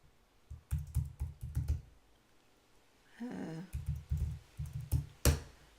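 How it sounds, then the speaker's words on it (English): Fingers type on a computer keyboard in two quick bursts of close, crisp key clicks, separated by a short pause and a soft rustle. "it's taking me a bit just to type in the term"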